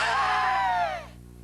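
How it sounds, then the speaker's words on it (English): A person exhales from the diaphragm with lips together, producing one short, close, voiced tone that slides downward in pitch before fading into quiet breath. "the exhale is going to be a diaphragmic exhalation, and it's going to sound a little bit like this."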